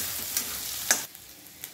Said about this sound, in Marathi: ठेचा कांद्यामध्ये छान असा परतून घ्यायचा आहे